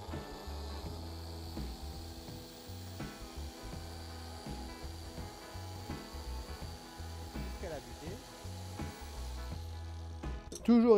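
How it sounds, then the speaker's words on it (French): A Makita PJ7000J biscuit joiner runs with a steady motor hum while plunging into a clamped wooden workpiece to cut a slot, with a low rubbing cutting texture throughout and a voice briefly at the end. "J'appuie sur le côté ici sur le bouton pour lancer la machine et ensuite je l'enfonce"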